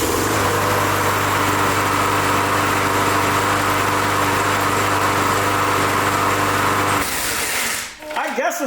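A 22-year-old push-button-start lawnmower engine runs loud and close with a steady high-pitched buzzing drone, then cuts out abruptly near the end.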